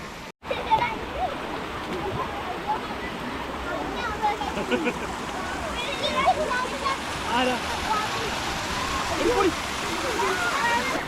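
Anayadikuthu waterfall sends up a steady, broadband rush of falling and splashing water nearby, and a person talks over it.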